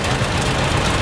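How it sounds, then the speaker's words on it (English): A 1939 John Deere tractor engine chugs steadily at close range, a loud, low, continuous thrum with rough knocking texture and no talk over it. "And then we have a 1939 John Deere, a couple years older"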